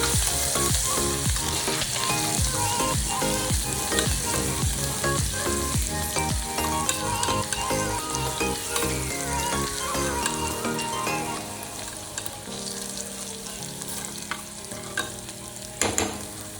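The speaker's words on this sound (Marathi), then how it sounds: "आलं लसूणची ओबडधोबड पेस्ट केलेली आहे मी इथे हे आपण चांगलं तेलात फ्राय करून घेणार आहोत" Coarse ginger-garlic paste frying in oil in a pan for dal khichdi, a steady loud sizzle with repeated stirring scrapes throughout, no voices.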